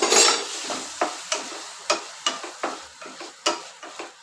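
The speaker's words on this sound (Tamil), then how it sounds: "பட்டரில் ஃப்ரை பண்ணிங்கன்னா" Paneer cubes fry in butter in a pan as a loud sizzling burst at the start gives way to a regular series of short scraping, hissing strokes as the pieces are stirred and turned.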